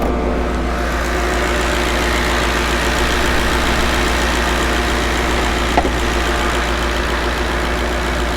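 The built, sleeved Coyote V8 engine of a 2015 Ford Mustang GT racecar idles smoothly and steadily up close, a constant low rumble with no voices.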